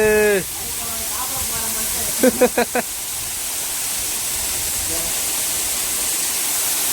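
Water rushes steadily down a little-known new waterfall at Pudur Nadu, a constant broadband roar that fills the whole stretch, with brief voices and a few short calls rising above it.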